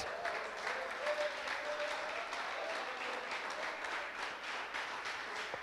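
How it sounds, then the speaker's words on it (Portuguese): Applause from a church congregation, a steady, dense wash of many hands clapping at a moderate distance, sustained throughout with no talk on top. "Aplauda Jesus."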